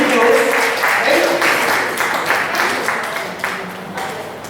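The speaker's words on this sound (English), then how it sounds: "Can we also have a round of applause for all the other teams?" Audience at a quiz fest competition applauding the teams, steady dense clapping throughout that slowly fades, with a voice briefly heard over it.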